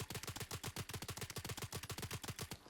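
A high-RPM gun in Blackhawk Rescue Mission 5 fires in quick taps of a few rounds each, a steady rhythmic string of short, punchy bursts heard alone and moderately quiet.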